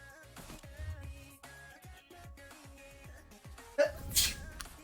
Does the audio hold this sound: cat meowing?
no